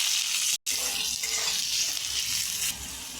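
Chopped onion frying in hot oil with dried chilli and black cumin, a loud steady sizzle with a brief gap near the start, then a slight drop in intensity toward the end.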